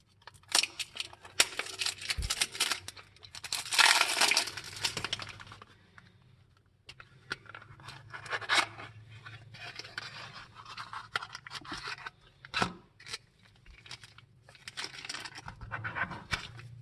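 A Takara Tomy 1/65 scale Nissan GT-R diecast model car is unboxed. Close, quiet rustling and scratching of packaging comes in irregular bursts with short pauses between them.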